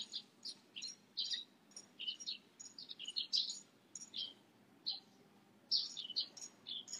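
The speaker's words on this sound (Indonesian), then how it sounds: "Ramai kali Kak, suara burung." Morning birds chirp in short, bright bursts of calls and tweets, several overlapping at irregular intervals against a quiet, faintly noisy backdrop.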